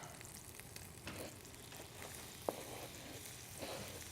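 Onions drop into hot butter in a pan and set off a quiet, steady sizzle, with light crackles and one sharp tap partway through.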